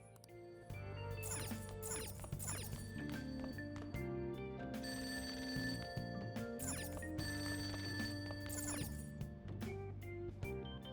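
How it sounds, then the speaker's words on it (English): A telephone rings downstairs in Persona 5, its repeated trilling bursts sounding faint and muffled under steady background music, with no talk. "That ringing sound isn't coming from my cell phone. I hear it from downstairs."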